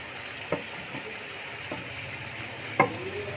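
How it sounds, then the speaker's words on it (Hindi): Macaroni tipped into a pan of cooked chicken and vegetables, a steady sizzle with a few sharp clinks and thumps as pasta lands and is stirred, close and moderate in volume. "ये चीज़ें डालने के बाद हम इसमें बिस्मिल्लाहिर्रहमानिर्रहीम मकरोनी डाल देंगे,"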